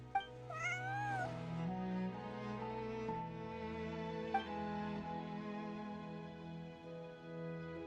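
A cat in the video game Genshin Impact gives a few soft, rising meows over a gentle melodic music bed, the calls brief and fairly close while the tune carries on underneath.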